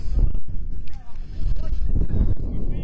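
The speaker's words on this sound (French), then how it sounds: "Et le vent fait son retour." Gusty wind buffets the microphone at an outdoor blind football match, heavy low rumbling bursts rising and falling while a commentator talks over it.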